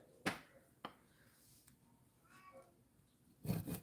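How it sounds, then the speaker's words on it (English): A domestic cat yowls and meows in a quiet indoor room, with a couple of sharp clicks early on and a louder burst of noise at the end; no talking. "One of the cats is yowling."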